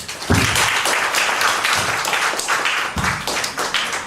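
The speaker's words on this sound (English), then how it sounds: "Can we give them another round of applause, please?" Audience applause for two speakers at an entrepreneurship talk, steady close clapping with a few sharper claps standing out across the few seconds.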